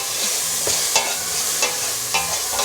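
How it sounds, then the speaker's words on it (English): Onions and tomato sauce stirred in a pot for a one-pot chickpea coconut curry, with scraping spoon strokes and a few sharper clinks over a low sizzle, steady and close. "I'm going to give that a stir."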